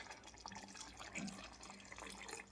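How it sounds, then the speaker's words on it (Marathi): Water pours steadily into a pot of dal with spinach (palak), a faint continuous splashing trickle heard close by without talk. "आता आपण आपल्याला किती पाणी पाहिजे तेवढं पाणी घालायचं याच्यात."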